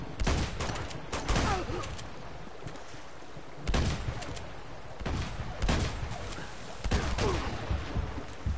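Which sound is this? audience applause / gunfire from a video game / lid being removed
gunfire from a video game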